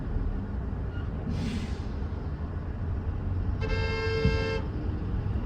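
A car horn honks twice in congested downtown Seoul traffic, a short distant toot and then a longer, louder blare, both over a steady rumble of idling engines.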